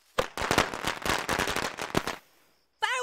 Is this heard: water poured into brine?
no